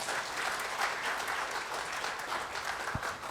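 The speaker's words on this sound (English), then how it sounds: "So big round of applause for that." A crowd at an HR conference awards ceremony claps steadily and continuously, a dense even patter of many hands throughout.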